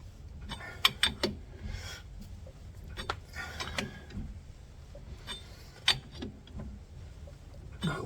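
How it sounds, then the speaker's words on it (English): An axle stud being threaded in by hand with a ratchet on a 1999 Chevy Suburban, heard as scattered close ratchet clicks and metallic ticks at an uneven pace, with a few sharper clacks mixed in. "and then just keep threading this in until it stops."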